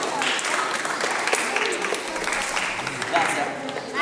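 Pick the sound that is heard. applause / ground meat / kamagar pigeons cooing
applause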